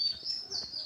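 Soft bird calls from pigeons come in short, quiet bursts, with faint breathy sounds underneath; no one speaks.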